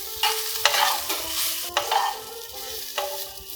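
Soybean chunks stir-fried in oil in a pan over medium-low flame, with a constant sizzle broken by several sharp spoon scrapes and clanks against the pan, close and loud, with no talking.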